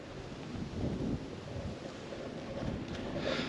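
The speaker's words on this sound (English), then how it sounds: "Gets a bit windy at times" Wind gusts across a campsite on New Year and buffets the microphone with a low, rough rumble that swells and eases over a few seconds.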